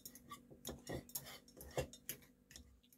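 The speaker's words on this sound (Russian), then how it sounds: "Я их вилкой разомну." Boiled eggs are mashed with a fork in a dish, making soft, irregular scraping taps of metal on crockery. The sound is quiet and close.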